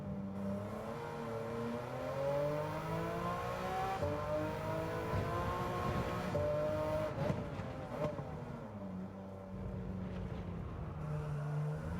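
Ruf-tuned Porsche racing around the Tsukuba circuit in a video game, its engine rising and falling through gear changes and revs in a steady, prominent drone, with no voices.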